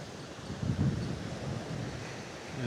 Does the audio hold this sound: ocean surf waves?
yes